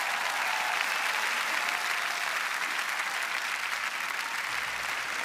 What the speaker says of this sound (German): Das ist nochmal dein Applaus